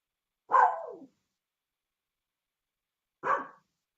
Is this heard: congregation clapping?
no